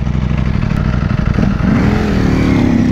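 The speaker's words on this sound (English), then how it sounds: "Two V4Rs riding together." Two Ducati Panigale V4R superbikes riding together, a loud, close engine roar that swells as the revs climb toward the end, with no talking.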